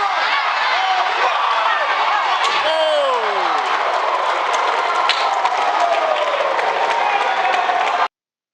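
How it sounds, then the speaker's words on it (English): Dense arena crowd noise at a live WWE SmackDown wrestling show in Jacksonville, a loud steady roar of many voices with clapping throughout, chanting and cheering for AJ Styles, with a sliding whistle-like tone partway through. "Yes, the Styles clap."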